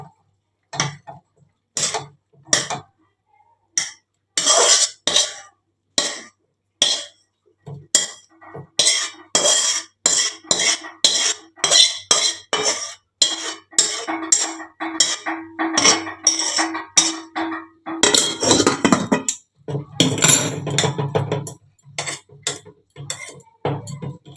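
A spoon scrapes and clinks repeatedly against a pan as cooked plastic chutney is poured out into a dish after the gas stove is switched off, sharp metallic taps in an uneven rhythm growing denser and busier toward the end.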